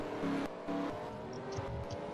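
NASCAR Sprint Cup race cars pull off pit road at the Toyota Owners 400. Engines drone steadily with brief revving bursts and tonal whines, at moderate level under crowd and track ambience.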